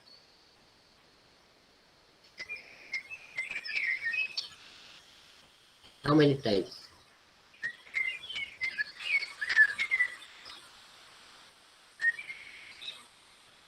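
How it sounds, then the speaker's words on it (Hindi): Several birds chirp and whistle in bursts, with a brief louder rustle in the middle and a short spoken question near the start. "जो आपको चिड़ियों की आवाज सुनाई दे रही है"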